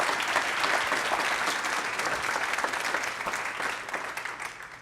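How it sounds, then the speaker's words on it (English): Audience applause fills the room with a steady, continuous wash of clapping from many people. It sounds fairly distant and even throughout, with no voices over it. "I'm glad y'all applaud"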